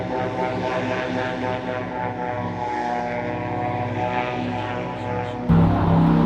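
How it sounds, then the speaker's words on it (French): An airboat's propeller and engine roar loudly and continuously nearby in a swamp, a dense droning buzz with a pulsing harmonic throb that rises abruptly into a louder, harsher burst near the end. "entendre le bruit des hélices et tout, ça doit faire full mal aux oreilles"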